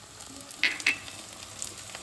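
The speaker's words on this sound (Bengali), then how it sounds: "এবার এটা আমি ভাজা ভাজা করবো যতক্ষণ না রসুনের কাঁচা গন্ধটা চলে যায়" Ginger, garlic and green chilli paste frying in oil after onions, a soft continuous sizzle with two quick bright spatter pops close together, heard alone without any voice.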